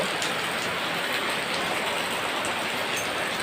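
Heavy rain pours steadily and loudly, a dense constant hiss of drops with no voices.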